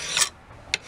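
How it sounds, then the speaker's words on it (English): Two quick rasping strokes of a hand file scrape along an axe blade during draw filing, sharp and close, with a short quiet gap between them. "Draw filing is the most effective way to sharpen your axe properly"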